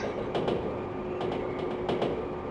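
A train in the driving game Densha de Go FINAL rolls along the line with a steady rumble and paired clickety-clack beats from the wheels over rail joints, close and continuous, with no talk.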